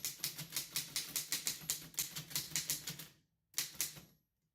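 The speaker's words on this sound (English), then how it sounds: "Then he turned back to his typewriter with fresh energy," Rapid mechanical clatter of typewriter keys struck in quick bursts, loud and close, with a short pause before a final brief flurry of keystrokes and no voices.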